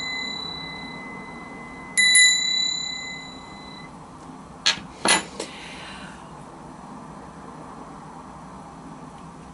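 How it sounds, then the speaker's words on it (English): A small bell rings once in a quiet room during a tarot reading, its bright tone fading over a couple of seconds, followed a moment later by a few short metallic clinks; no one speaks. "let's ring the bell for that"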